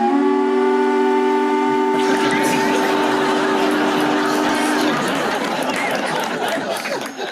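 A factory whistle sound effect played on a radio comedy panel show, a loud sustained steam-whistle blast lasting several seconds, followed by crowd chatter and laughter that continues after it ends.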